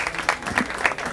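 An audience applauds at a tourism excellence award ceremony in Kisumu, giving a short burst of scattered, moderately loud clapping with no clear voices.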